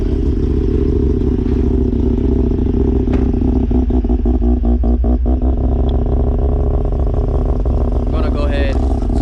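A turbocharged rotary engine in a Mazda RX8 runs with a loud, steady rough idle and uneven mechanical clatter, close by, with voices talking over it.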